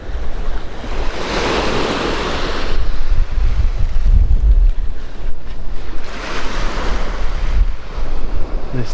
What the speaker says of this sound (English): I can feel the wind pick it up now.